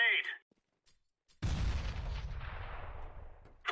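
A smoke grenade in Counter-Strike: Global Offensive goes off after a short silence, a sudden thump that turns into a long fading hiss, with brief voice fragments at the start and end.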